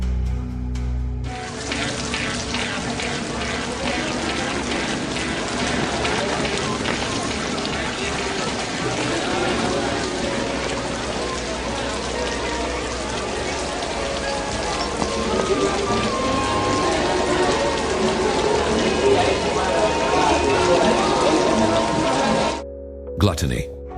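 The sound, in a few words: heavy rain falling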